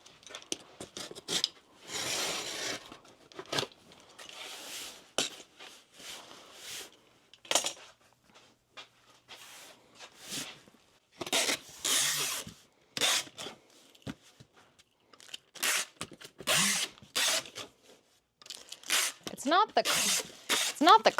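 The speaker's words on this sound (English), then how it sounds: "There is some cardboard I'm going to cut off though." Cardboard being cut for a shipping package, a series of short scraping, snipping strokes in irregular bursts, close by and moderately loud, with some quiet talk between cuts.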